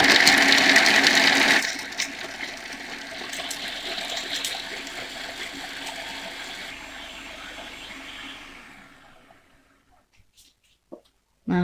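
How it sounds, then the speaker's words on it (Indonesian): A food processor grinding peanuts, a loud whirring motor roar that drops after the first couple of seconds, runs on at a lower churning level, then winds down to silence with a few faint knocks. "Ini kacang tanahnya akan saya haluskan menggunakan food processor"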